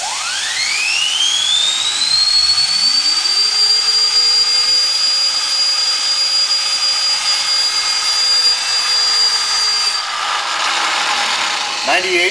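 A small engine run at 160 psi, powering four lamps in a low-cost solar power setup, spins up with a rising whine to a steady loud running tone, then winds down near the end.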